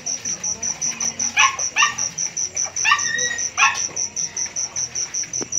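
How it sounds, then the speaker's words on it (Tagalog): A dog barks in several short bursts over a steady, high chirping of crickets or insects, the barks fairly near and spaced unevenly. "puros aso na yun na naririnig ko dito eh"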